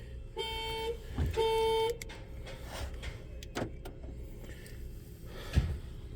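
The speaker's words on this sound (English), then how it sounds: "the beep works whenever you hit the alarm" Electronic alarm beeps from a 2010 Nissan Cube, two bright tonal bursts close together in the first two seconds, followed by a few short knocks and clicks against a quiet background.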